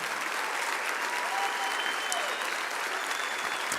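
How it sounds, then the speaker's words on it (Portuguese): A church congregation applauds loudly during an evening worship service, a dense, steady wash of clapping that holds at full strength throughout with no pauses and no clear speech over it. "Vamos aplaudi-los bem forte, irmãos, por favor."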